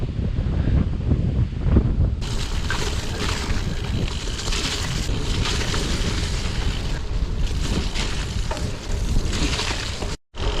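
Blustery autumn wind buffets the microphone outdoors, a continuous roaring rush with gusty surges throughout and a brief cut near the end.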